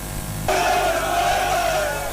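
Crowd of candidates from across the Federation and the FCT cheering together, a loud sustained roar of many voices with shouting, following a brief cut from other sound.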